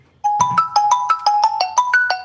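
A phone rings with a bright, repeating electronic melody, steady pulsing tones close by, with no talking.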